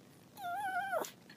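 A frightened female dog gives a single wavering whimper, a thin, rising-and-falling whine lasting under a second, close and fairly soft in a quiet room.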